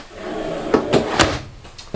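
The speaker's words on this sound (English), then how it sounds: "big pot and pan drawer down below" A big pot-and-pan drawer under the stainless steel oven in the kitchen of a 2019 Jayco Eagle 27.5RLTS RV slides with several quick wooden knocks and thuds, close and fairly loud.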